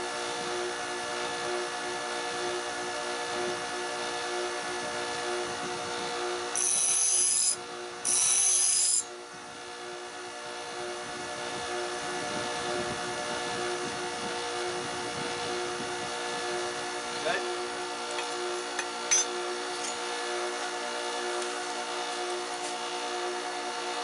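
A steady whirring machine hum while the bevel of a knife blade is ground, continuous and even, with two brief louder hissing bursts early on and a few faint clicks later.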